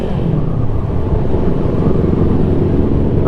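A 2023 Yamaha MT-10 motorcycle engine heard from the rider's seat, a loud, steady rumbling drone with constant wind noise throughout.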